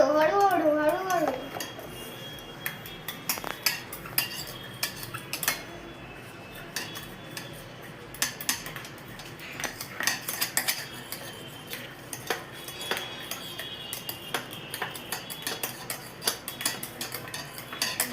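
Omelette ingredients being stirred in a bowl with a little chutney, giving steady clinking and scraping of a utensil against the bowl, with a voice speaking over it early on.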